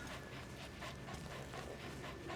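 A dog pants in Metal Gear Solid V, a quick, even rhythm of breathy puffs repeating steadily over a continuous noisy background.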